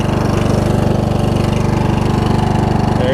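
A Husqvarna YTH21K46 riding mower with a loose, oil-leaking Kohler Courage engine idles close by with a loud, steady, rapid thumping pulse throughout the short stretch.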